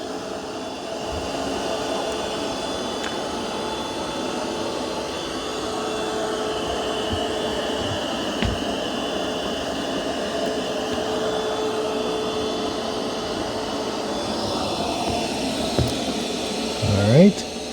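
Curv 2 robot vacuum running over low-profile carpet with both side brushes spinning, a steady whirring motor hum with a faint high whine and occasional small knocks.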